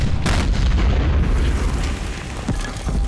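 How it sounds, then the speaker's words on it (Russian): A grenade blast in a war scene sets off a loud, sustained rumbling boom that fills the whole clip, with a sharp crack near the start and a lingering low roar after it. "Граната! Ложись!"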